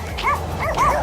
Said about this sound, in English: Some little dogs barking at us.